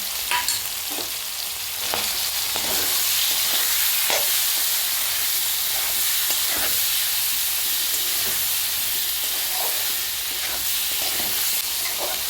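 Potato and eggplant fry together in fish oil, with salt, turmeric and green chilli added, giving a steady loud sizzle and hiss. Occasional stirring clicks sound close by, with no talk.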